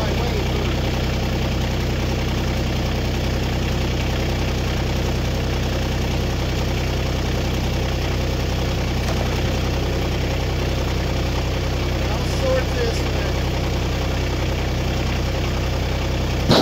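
Log splitter engine idling at about 1400 RPM, a loud, steady low rumble with an even mechanical throb that runs unchanged from start to finish.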